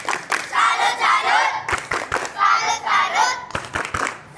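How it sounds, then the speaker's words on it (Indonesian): A group in a classroom performs a rhythmic salute clap, with bursts of sharp claps in a patterned beat mixed with loud chanting voices close by. "Kita beri tepuk salut ya."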